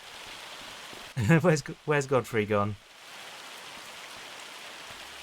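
Rain falls steadily in Farming Simulator 25 as a constant hiss of drops throughout, with someone briefly speaking over it partway through.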